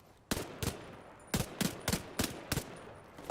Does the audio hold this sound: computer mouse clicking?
no